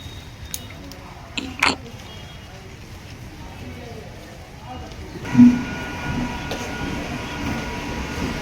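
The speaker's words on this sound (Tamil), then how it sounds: "A passing through train is going to traverse through platform number 1." Passenger train running through platform 1 of a suburban railway station near Chennai, a steady rolling rumble with a brief louder burst partway, station ambience around it.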